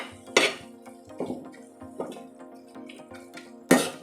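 Utensil stirring grated fresh coconut into cooked kurdu greens in a pan, with a few sharp clinks of metal against the pot over soft scraping, close and moderately loud.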